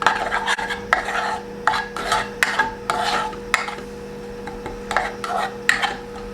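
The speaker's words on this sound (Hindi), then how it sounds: "कटा हुआ लहसुन चला जाएगा, 1 अदद सबसे पहले, ताकि हम हल्का सा सौते कर लेते हैं।" Chopped garlic sautés in a pan as a spoon stirs and scrapes repeatedly, giving irregular metallic scraping strokes over a soft background sizzle and a steady low hum.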